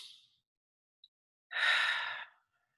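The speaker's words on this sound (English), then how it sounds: "take a minute with me to take a few deep breaths" Deep breaths taken during a guided meditation: a soft breathy exhale fades at the start, then after a pause a long, fuller breath rises, holds for about a second and trails off, close and alone with no talking.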